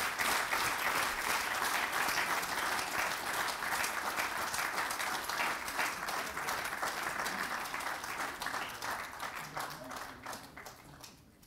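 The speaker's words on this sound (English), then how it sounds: "Please give her a big round of applause." An audience at a university's tenth anniversary celebration breaks into dense, sustained applause that holds loud for several seconds, then gradually thins and fades out at the end.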